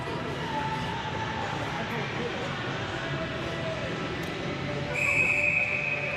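A referee's whistle blows at an ice hockey game, a steady shrill tone over continuous arena crowd noise and commentary talk near the end of the stretch.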